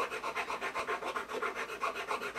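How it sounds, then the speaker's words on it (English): Light, rhythmic rasping strokes of a file across a switch blade held in a Finetrax filing jig, close and even, about a dozen quick passes with no speech. "Again, go light, just very light filing."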